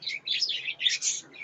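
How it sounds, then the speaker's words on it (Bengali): Pet lovebirds kept with breeding boxes chirp in a quick run of high, thin tweets in close succession, nearby and fairly loud, with no voices. "আর এই সে লাভবার্ড পাখি"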